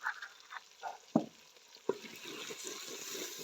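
A coarse salted paste of green chillies hitting browned chicken in a pan, for turnip and meat curry: a faint, soft sizzle broken by two sharp clinks of a spoon stirring, then a rising hiss.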